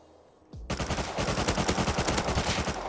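Gunfire in the survival video game Rust: a sharp onset followed by a loud, rapid, sustained automatic burst lasting over two seconds, close and dominant with no talk.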